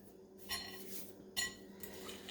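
A utensil mixes a salmon patty mixture in a bowl, making soft, close scraping and clinking strokes with a few sharper taps against the bowl.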